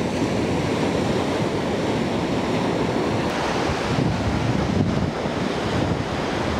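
Ocean waves at Golden Sand Beach in Poovar, Kerala, roar as continuous, loud surf mixed with wind buffeting the microphone, with no voices.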